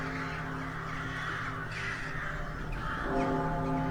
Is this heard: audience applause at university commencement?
no